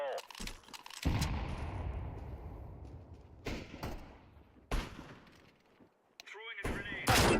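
Grenade explosion in a Counter-Strike 2 match, a sharp blast with a long rumbling decay, mixed with bursts of gunfire and spoken callouts.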